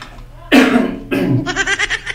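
A couple of short coughs close to the microphone, followed by a brief breathy vocal sound.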